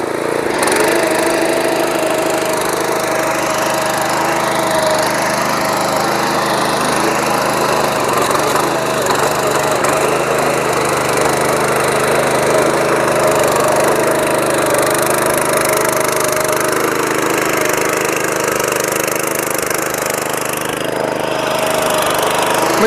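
A small engine runs loud and steady with a whirring blade, droning continuously for over twenty seconds with no talking.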